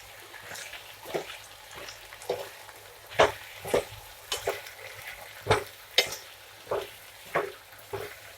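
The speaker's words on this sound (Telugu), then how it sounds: "ఒకసారి మూత పెట్టి ఒక 2-3 నిమిషాలు వేగనిద్దాము" Drumstick leaves with black-eyed peas fry quietly in a pan, a soft sizzle under repeated sharp scrapes and clinks of a spoon stirring at irregular intervals, with no talking.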